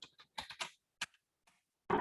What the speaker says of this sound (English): hit Ctrl+Shift+A on their keyboard and type